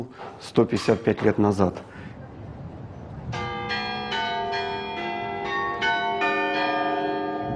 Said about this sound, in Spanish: Estas campanas doblan tanto por el paso del tiempo como por la rica historia de la ciudad.